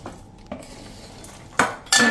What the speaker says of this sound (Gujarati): તો જે આપણે કાજુ, બદામ અને અખરોટના જે પીસ કર્યા એ નાખી દઈ.